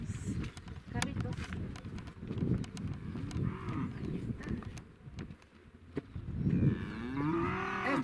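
Cattle mooing at a village patronal festival for San Cristóbal, several low drawn-out moos rising near and loud amid crowd murmur and outdoor bustle, with voices talking throughout.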